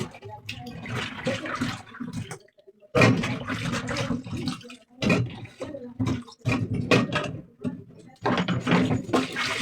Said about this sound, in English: So let's turn it again and wash it for the second time until the water is neat.